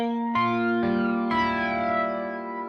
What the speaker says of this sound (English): this is on the flanger kind of sound here